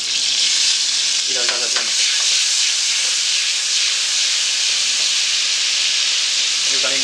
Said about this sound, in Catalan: afegim el vinagre de Cabernet Sauvignon